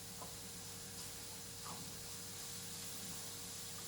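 Beetroot sautéing in olive oil in a saucepan, a steady soft hiss running evenly throughout at low level with no talk.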